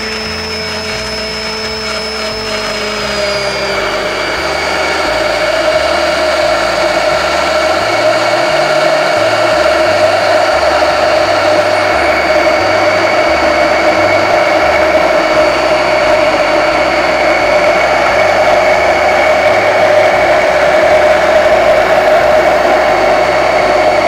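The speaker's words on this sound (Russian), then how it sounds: "Обычно я не выключаю блендер, пока готовлю." An immersion blender whirs loudly and continuously for about twenty seconds while emulsifying homemade mayonnaise in a tall cup, its motor pitch steady after a short settling at the start, with no talking.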